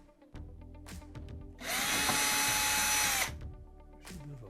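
A power drill runs in a loud, steady burst of about a second and a half while backing 1/4-inch screws out from below the controller of a GE oven, with softer handling clatter and clicks before and after.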